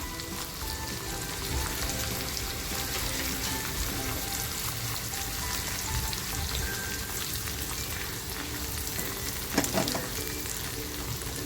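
Turmeric fries in hot oil in a home kitchen, giving a continuous close hiss and crackle that stays even throughout, with a faint stir or tap near the end and no voices.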